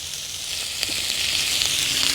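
Bacon and eggs crackle and sizzle steadily in a 10 1/4 inch cast iron skillet, a dense hiss of frying fat with small pops and no talking.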